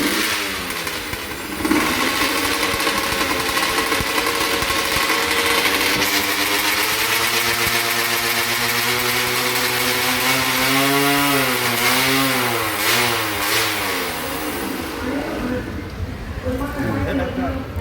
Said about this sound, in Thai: กำลังว่อม เครื่อง